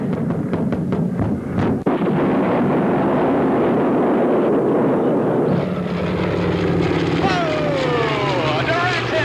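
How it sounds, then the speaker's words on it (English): A Bell P-63 fighter plane at a 1986 air show in Waco roars past with a loud propeller engine drone that swells and shifts in pitch, while an announcer talks over the PA throughout. "Watch now, ladies and gentlemen, on the right, the P-63 lines up with the enemy tank."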